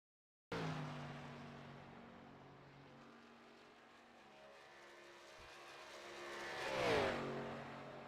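An ARCA race car at Kentucky Speedway roars past on track, its engine note building from a steady drone to a loud close pass with a falling pitch before fading.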